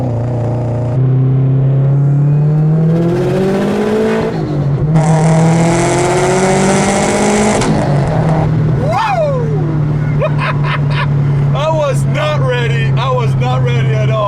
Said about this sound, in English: did you hear that recirculating blow-up valve?